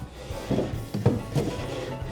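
A solid wood drawer on a chalk-painted, rust-effect cabinet, its sides rubbed with candle wax, slides in and out with a few soft wooden scraping and rumbling strokes, close and moderately loud.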